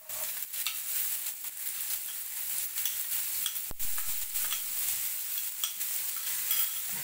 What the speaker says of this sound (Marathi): आता हा कांदा आपण चांगला परतून घेणार आहोत।